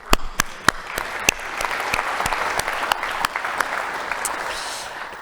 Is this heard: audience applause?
yes